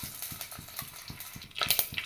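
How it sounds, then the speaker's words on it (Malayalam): Mustard seeds dropped into hot coconut oil in a pan, giving a rhythmic run of soft low taps and crackles that grows into a brighter burst of sizzling pops toward the end, close and moderately loud. "ലേശം കടുക് ഇട്ട് കൊടുക്കാം."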